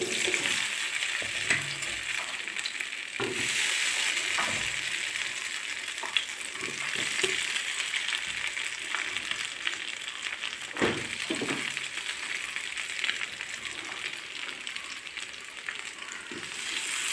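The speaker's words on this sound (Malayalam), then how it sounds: "ഫ്രൈ ചെയ്യാൻ പോവാണ്." Cauliflower fries in hot oil for chilli gobi, sizzling steadily throughout with occasional stirring clanks and bursts of spattering, close and alone without speech.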